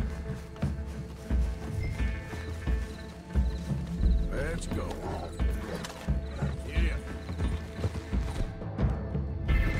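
Horse hooves clip-clop in a steady rhythm with occasional whinnies and mechanical creaks in a video game, with someone talking over the sounds throughout.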